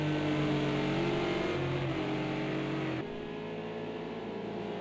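A GT3 race car engine drones steadily in Project Cars 2 at Watkins Glen, the loud tone shifting pitch as it revs and drops, then dipping slightly as the gear changes partway through.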